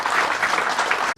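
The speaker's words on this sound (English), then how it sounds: "give a big round of applause to Dr. Dua" A short burst of audience applause for Dr. Aneesh Dua at a business forum, dense clapping from a crowd lasting about a second before cutting off abruptly.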